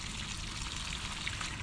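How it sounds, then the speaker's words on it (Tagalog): Water poured onto garden soil while watering backyard plants, a continuous close hissing splash and trickle with no pause throughout. "diligan na natin."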